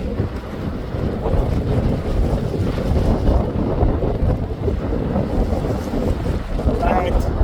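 Steady wind blowing hard across the microphone at the seaside in Kuwait, a continuous loud buffeting roar with broadband gusting and no pauses, alone throughout.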